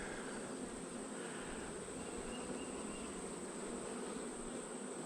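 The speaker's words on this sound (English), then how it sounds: "Look at all those bees." A newly installed honey bee swarm hums steadily in and around its hive, a soft, continuous buzzing drone with no voices present.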